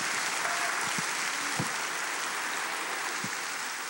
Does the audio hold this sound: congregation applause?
yes